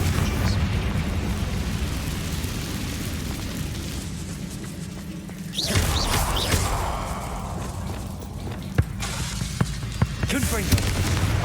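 A Confringo spell blast in Hogwarts Legacy bursts out midway, a fiery boom swelling over the game's ambient background while a voice speaks.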